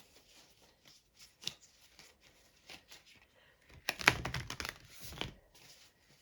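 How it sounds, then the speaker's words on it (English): A deck of oracle cards is shuffled by hand, bringing soft scattered riffles and taps followed by a louder burst of quick card slaps near the end, quiet and close in an otherwise hushed room. "let's give it a shuffle"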